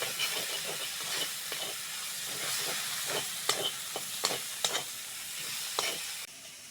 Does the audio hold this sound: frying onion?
yes